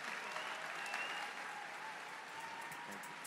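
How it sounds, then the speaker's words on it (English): A CPAC panel audience applauds with dense, steady clapping that carries evenly through the whole stretch, and no voice rises above it. "Give a big round of applause to these guys."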